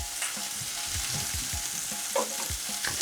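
Cooking oil sizzles and crackles steadily in a pot of mushrooms, close and fairly soft, with a few scraping stirs throughout and no voices.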